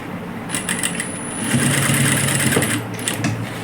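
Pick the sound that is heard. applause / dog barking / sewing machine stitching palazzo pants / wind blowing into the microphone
sewing machine stitching palazzo pants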